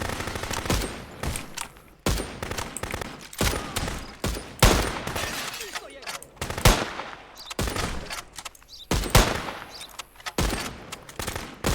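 AK rifle fire in the Contraband Police video game, a continuous string of loud, sharp gunshots in quick bursts with almost no pause between them.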